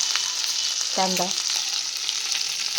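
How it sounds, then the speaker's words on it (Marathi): Onion paste sizzles in a pan on top of sautéed ginger-garlic paste for pav bhaji. A steady, close frying hiss runs throughout, with a brief tonal chirp near the start. "कांद्याची पेस्ट टाकूया। कांदा पेस्ट टाकलेली आहे।"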